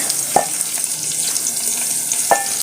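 Round-cut onions frying in a pan for a chicken recipe, a steady bright sizzle with two brief stirring scrapes, close and alone without talk.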